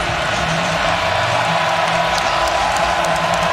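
A huge stadium crowd at a college football playoff game between Tulane and Ole Miss keeps up a loud, continuous roar of cheering, a dense wall of sound with no letup.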